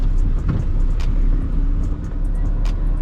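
A car's engine rumbles steadily up close, a low continuous drone with slight swells as it is maneuvered backward into a parking spot, no talking over it.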